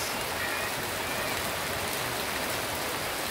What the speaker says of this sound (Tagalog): kahit na malakas ang ulan